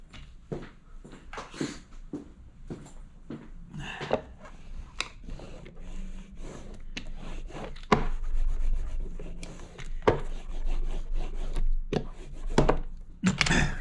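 A hand roller is pressed and rolled over a printed decal on a clock face, producing close, repeated rubbing and squeaking strokes with occasional light knocks against the surface.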